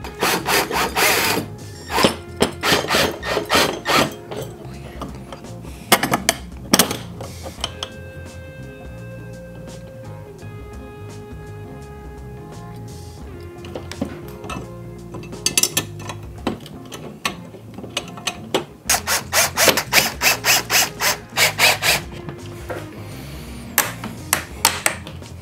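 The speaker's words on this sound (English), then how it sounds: "we're going to go ahead and bolt these to the L brackets" Metal pieces being bolted to L brackets on an electric longboard go-kart build: scattered sharp metallic clanks and rattles in bursts, with a quieter stretch of faint ringing in the middle, close by and with no talk.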